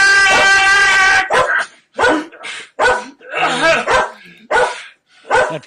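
A dog gives a high, drawn-out whining yelp followed by a rapid series of about six sharp, loud barks, each separated by a brief silence.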